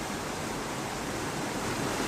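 A waterfall hidden among rock faces rushes in a steady, dense roar of falling water, moderately loud and unbroken, with no voices over it.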